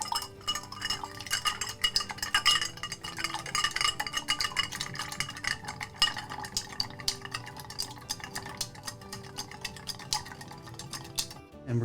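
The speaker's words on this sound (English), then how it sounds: "Let's give her a nice stir" A spoon clinks and rattles against ice in a glass while an Irish cocktail is stirred, a continuous run of close, light tinkling taps for about twelve seconds.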